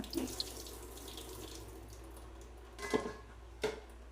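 A faucet runs steadily into a sink, water spattering through a strainer holding homemade butter, with a couple of louder splashes near the end.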